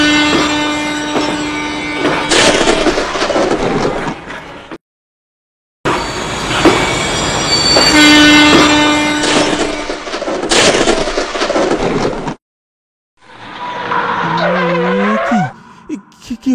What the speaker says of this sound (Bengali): মাঝ রাস্তায় ট্রেন এসে আটকে গেল।